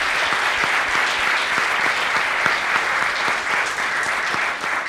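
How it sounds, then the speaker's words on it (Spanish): Sustained applause from an audience at a forum on democracy and the international community, dense steady clapping at even loudness throughout, with no speech over it. "Pido por favor un aplauso para..."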